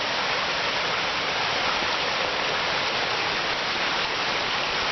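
Steady, dense rush of a stream tumbling over rocks on a forest trail in Killarney Provincial Park, continuous and fairly close with no breaks or voices.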